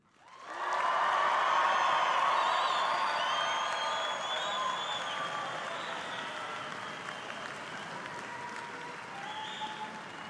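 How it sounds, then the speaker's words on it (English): A packed indoor graduation crowd at Utah State University bursts into cheering and applause, swelling quickly into a loud roar with whoops and whistles, then easing slightly while staying sustained. "I wanna hear you cheer"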